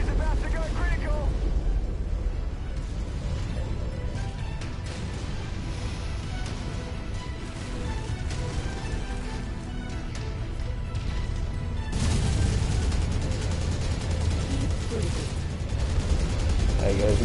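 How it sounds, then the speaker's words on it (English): A MechWarrior 5 mech battle fills the scene with continuous dense gunfire and explosions, including an ammo explosion, loud and unbroken throughout, with a heavier surge of blasts near the end. "Ammo explosion detected."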